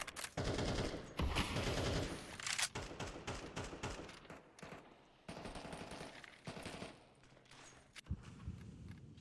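Rapid bursts of automatic gunfire and scattered shots from an esports CS-style match cast in an ESEA Season 52 game, loud and dense with brief gaps, footsteps faintly between volleys.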